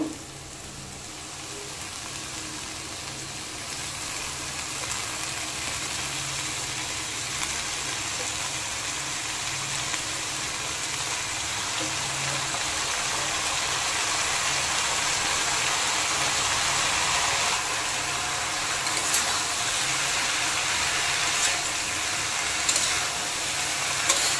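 Leafy greens (shak) frying in a pan with boiled potatoes, a steady soft sizzle that holds broadband and grows slightly louder over time, with no talk.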